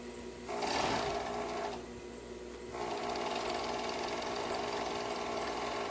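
A sewing machine runs close by while stitching the underarm seams of a garment, with a brief quick burst followed by longer steady runs of rapid mechanical whirring and no talk.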